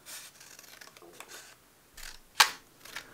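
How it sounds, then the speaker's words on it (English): A big pair of scissors cuts along low-tack masking tape: quiet rustling and scraping, then one sharp, close snip near the end. "let's get a big pair of scissors and we'll cut along the edge of this."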